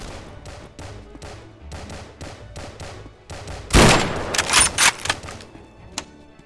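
Gunfire in the Garry's Mod DarkRP game: a steady run of clicking taps, then a burst of loud rapid shots, several sharp cracks and a single final shot, with no talk.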